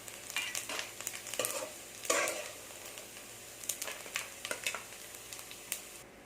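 Grated coconut or green gram being dry-roasted in a pan for moong dal payasam, with steady soft sizzling and repeated scraping stirs throughout, moderately close and without talk.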